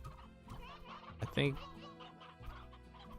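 Hens clucking in the farming game Slime Rancher, a short burst of fowl calls near the middle with a voice speaking briefly over the game sounds.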